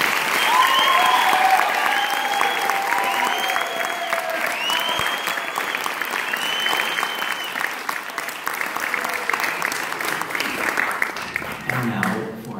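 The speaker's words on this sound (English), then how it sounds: "I would like to give them a round of applause for their music making and everything they've done today" Loud, full audience applause for musicians at a college instrumental music festival, a thick continuous clapping roar with a few whoops and whistles, tapering slightly at the end.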